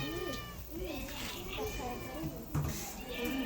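A cat meows a few times close by, with people talking and other voices in the background.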